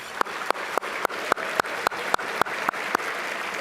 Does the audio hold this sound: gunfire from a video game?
no